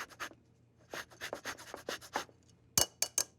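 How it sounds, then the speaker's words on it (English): Orange peel rubbed against a grater for zest, making short raspy scraping strokes in irregular bursts, close and moderately loud, with no voices. "For a little flavor, I'd like to add some orange zest."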